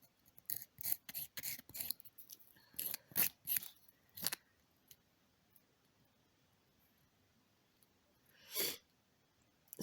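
A nail file rubbing across a fingernail, smoothing the sides, in quick faint rasping strokes, a cluster of short scrapes, then a few more after a pause, close and quiet in a still room.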